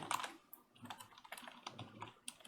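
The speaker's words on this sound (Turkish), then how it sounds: "Ali Veli yazıyorum." Fast, light typing on a computer keyboard, a quick run of close, soft key clicks throughout, fairly quiet.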